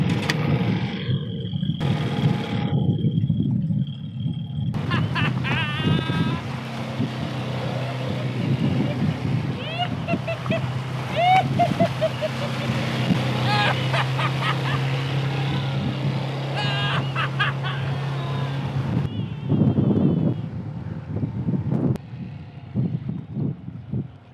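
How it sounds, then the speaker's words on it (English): A sailboat's outboard motor runs steadily on the water, a loud continuous droning hum with revving swells throughout. "our outboard finally started"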